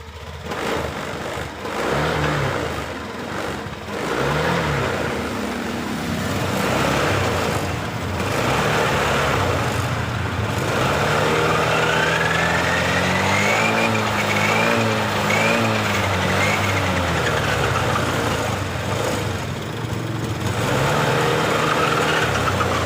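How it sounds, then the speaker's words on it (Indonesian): A Honda Beat scooter engine starts and runs loudly and steadily, its idle hunting and uneven, with a faint whine drifting over the running motor. "coba kita jalankan motornya"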